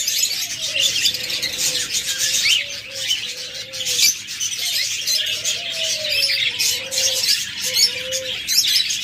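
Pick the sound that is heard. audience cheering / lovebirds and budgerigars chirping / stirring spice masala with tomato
lovebirds and budgerigars chirping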